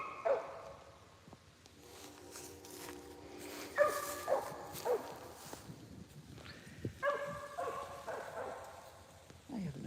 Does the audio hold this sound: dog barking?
yes